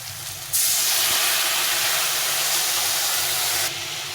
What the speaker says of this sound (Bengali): সামান্য এক চামচে জিরে গুঁড়ো হাফ চামচ মতো লঙ্কা গুঁড়ো দিয়ে আমি একটু জল দিয়ে দেবো